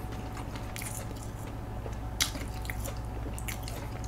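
Biting into and chewing a rice-cake hot dog, heard close up, with soft squishy chewing and a few sharp crunchy bites over a quiet background hum.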